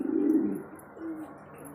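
A pigeon coos, a low throaty call followed by a softer second coo, close and fairly quiet with no one talking.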